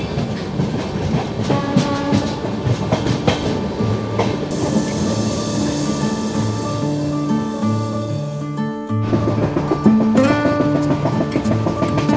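The Kanchankanya Express rolls through the Mahananda reserve forest, with steady clickety-clack of wheels over rail joints and rumbling carriages, loud and continuous throughout, no speech.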